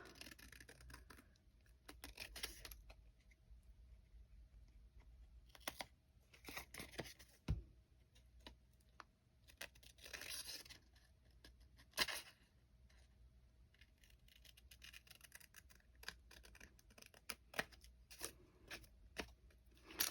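Scissors snipping excess paper off a glued vintage craft tag, with a series of short crisp cuts and paper rustles spread across the clip, close and fairly quiet, no talking.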